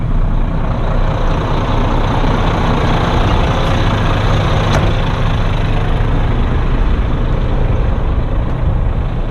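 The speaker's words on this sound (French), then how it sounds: "Le moteur, on va donc pouvoir le laisser tourner." A heavy truck's diesel engine idles steadily with the driver out of the cab, a constant low rumble with faint air-brake hiss, nearby and unbroken throughout, with no talking.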